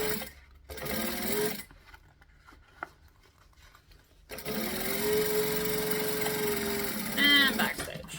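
A sewing machine runs in two bursts of rapid, even top stitching, close and fairly loud, separated by a quiet pause with faint handling noises.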